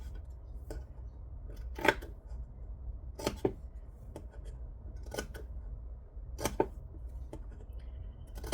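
Scissors snip at the angled corners of fabric pieces, a series of crisp, light cuts in an irregular rhythm, close and fairly quiet over a low steady background hum.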